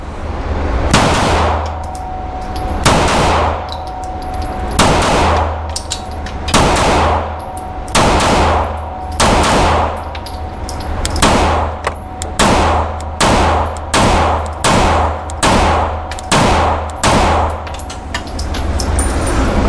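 Rifle fired in rapid pairs of gunshots through a red dot optic, about a dozen loud, sharp double-tap reports spread evenly across the string, each pair close together with ringing echo between shots.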